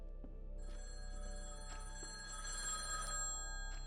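An old telephone rings with short metallic bell bursts over a steady low hum, moderately quiet and alone.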